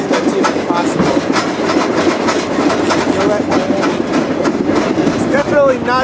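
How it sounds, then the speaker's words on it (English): Freight train rolling along while riding in an open rail car, a loud continuous rumble and rattle with rhythmic clickety-clack of the wheels, with some squeals toward the end. "I'm just gonna stay on the train for sure"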